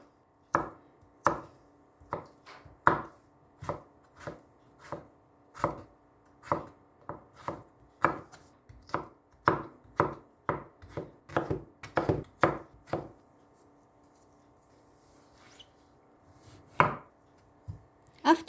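A knife slices a cucumber on a cutting board in a steady series of crisp, close chops. The strokes come in an even rhythm, speed up briefly, then pause before a final few cuts.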